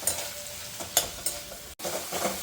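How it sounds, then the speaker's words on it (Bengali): Tomatoes cooking down with spices and salt for a Bengali curry, a gentle sizzle with intermittent spatula scrapes and stirring bursts, close and moderately loud, with a brief dropout partway through. "টমেটোগুলোকে একদম ভালো করে গলিয়ে নেব।"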